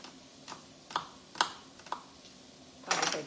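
Sharp knife chopping cabbage on a cutting board for a beef and cabbage soup: a handful of crisp, evenly spaced cuts up close, ending in a quick flurry of strokes, with no talking.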